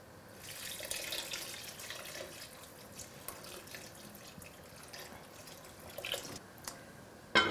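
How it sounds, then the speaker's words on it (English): Tap water runs steadily into a cooking pot for mutton pepper soup with danwake, a soft splashing stream with a few small clinks, and no voices over it. "I'm going to add some more water and I'll bring this to a boil."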